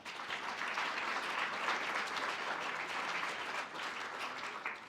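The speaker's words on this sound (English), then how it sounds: "So give yourselves a round of applause," A hall of medical staff, pre-hospital and emergency workers, applauds in a sustained, dense roar of clapping that holds evenly for several seconds, with no voices over it.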